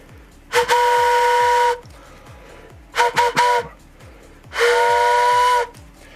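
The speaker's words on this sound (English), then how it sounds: "owe you guys 1 train whistle." Steam train whistle sound effect blowing three loud blasts, a long one, a quick stuttering burst and another long one, over a rhythmic low chugging beat.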